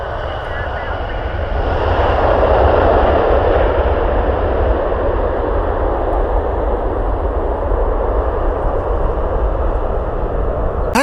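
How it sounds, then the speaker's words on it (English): A Gulfstream business jet comes in to land on runway 6 left at Cleveland Hopkins International Airport, its engines a steady, loud roar swelling slightly and holding throughout with no talk. "we got a Gulfstream coming in here on runway 6 left"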